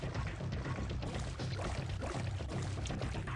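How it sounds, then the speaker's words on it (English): A player character swimming through water in Sunkenland, with continuous close splashing and sloshing strokes, steady and moderately loud throughout with no talk. "Let's just swim over there."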